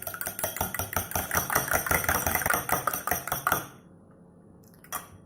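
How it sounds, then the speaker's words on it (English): Two eggs being lightly beaten in a bowl, a fast steady series of clinking whisk or fork strokes against the side that stops abruptly, followed by near silence and a single faint knock. "Take 2 eggs and just lightly beat them."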